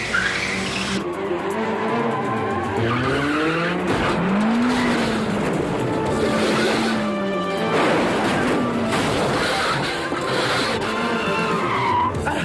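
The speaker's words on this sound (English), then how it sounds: "4 identical brand new Mitsubishi sports cars were shipped to South Africa and Holland for Jackie to crash at will" A Mitsubishi sports car in a movie stunt sequence screeches through repeated loud tire squeals and skids, rising and falling pitches layered over continuous engine and road noise, intense throughout.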